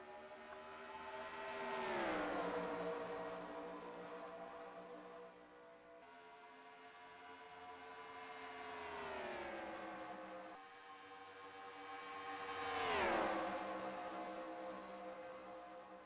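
NASCAR Xfinity-style stock cars in a racing video game at DC roar past in three loud engine sweeps, each rising and then dropping sharply in pitch as it passes, with steady engine drone between passes.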